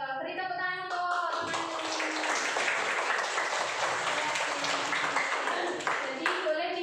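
A fifth-grade classroom of children clapping together, brisk and fairly loud, following a brief spoken prompt, with scattered kids' voices mixed into the applause.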